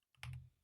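A few quick keystrokes on a computer keyboard, close and fairly quiet, a short cluster of clicks with nothing else around them.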